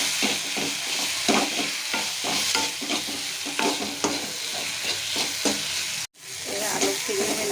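Potatoes and taro stir-fried in a pan, with a steady sizzle and repeated scraping strokes of the spoon, close and loud, broken by a brief gap near the end.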